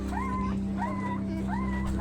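A puppy whimpers in three rising, drawn-out whines at a steady rhythm, close and clear over a constant low background hum.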